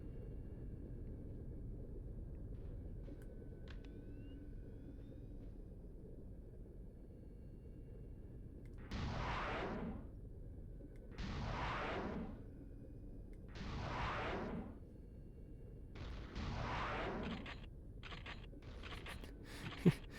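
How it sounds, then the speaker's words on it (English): Explosions in the video game Metal Arms: four or five broad, rumbling booms spaced a few seconds apart over a steady low background drone, fairly faint and distant, without speech. "Hey, what's all these explosions?"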